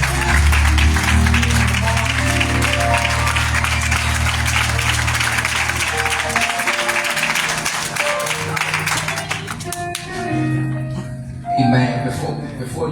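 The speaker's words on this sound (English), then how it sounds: "Y'all stand up and y'all clap for this already." A church congregation stands and applauds, a dense wash of clapping layered over music and scattered voices, then tapering off toward the end.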